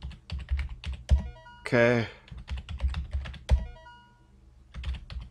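Computer keyboard typing while playing the game Digidream 1989: rapid, close clicking keystrokes in bursts, with a brief spoken word and a low background hum underneath.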